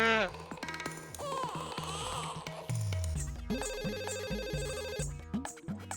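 A telephone rings repeatedly in a steady electronic pattern, an intercom call from a warehouse, mixed with background music and other sounds.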